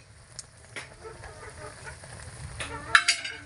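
Blue crabs cook in coconut milk with onion leaves in a pan in Masbate, Philippines. A soft, close simmering sizzle runs steadily, with intermittent stirring scrapes and a louder clatter near the end, and no talking.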